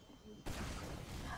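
Gunfire from the Team Fortress 2 video game breaks out suddenly after a brief quiet moment, then carries on as a dense, loud burst of shots.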